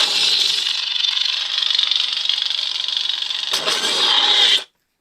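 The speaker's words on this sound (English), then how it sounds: "I love the way it shuts down." A Kenobi lightsaber with an installed sound board hums with a steady, hissy buzz, then surges briefly and cuts off abruptly into silence as the blade shuts down, loud and close.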